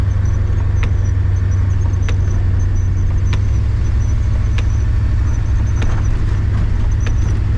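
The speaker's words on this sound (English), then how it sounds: "Definitely an old car. Definitely loud. I like this motor." An old Oldsmobile car engine rumbles loudly and steadily at idle, a deep low drone close by, with faint periodic ticks over the engine noise.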